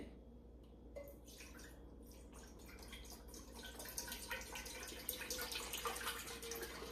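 Broth being poured into a cooking pot for chili, starting as faint drips and building into a steady, close splashing stream of liquid with no voices.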